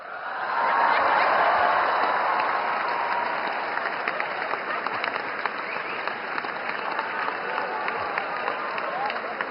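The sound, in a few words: audience applause at PM Modi's address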